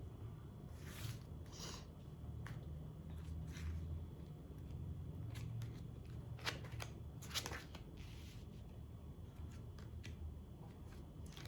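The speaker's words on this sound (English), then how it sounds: "I'll shuffle the cards for you." Tarot cards are shuffled repeatedly up close, soft riffling and slapping in uneven bursts over a quiet background, with no talking.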